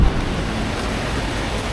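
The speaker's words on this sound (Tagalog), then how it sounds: "Lakas ang ulan." Heavy rain pouring steadily, a dense continuous broadband roar with no breaks, loud and close.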